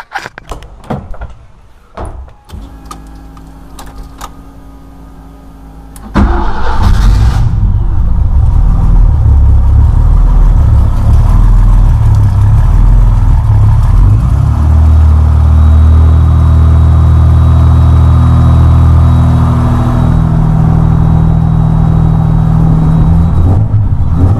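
BMW E30 325i turbo engine on a dyno: a few clicks and a brief cranking, then the engine fires and settles into a loud, steady, rumbling run that continues to the end.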